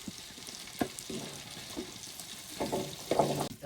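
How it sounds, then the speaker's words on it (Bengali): Chicken pieces for biryani fry in oil with a moderate sizzle, broken by scraping stirs and a louder clatter near the end as the pieces are lifted out. "তারপর চিকেনগুলো মোটামুটি থার্টি পার্সেন্ট মতো ফ্রাই করে তুলে নিচ্ছি"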